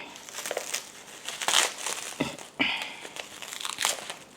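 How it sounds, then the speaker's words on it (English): Plastic packaging crinkles and crackles up close in irregular bursts, with a couple of sharp tearing snaps as it is pulled away. "taking plastic off like this"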